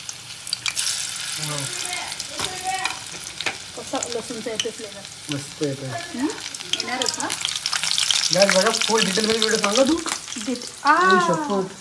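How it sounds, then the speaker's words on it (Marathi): Garlic crackles and sizzles steadily in hot oil for a fish curry, close up, while a voice talks over the frying. "आपण डायरेक्टली देतो लसूणची फोडणी मस्त लसूण ठेवायचं"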